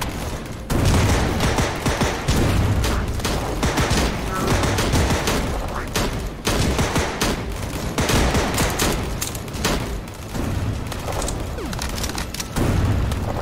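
Dense, continuous gunfire in the VR shooter Cactus Cowboy: Plants at War, loud rapid shots and volleys overlapping almost without pause, with faint talk beneath.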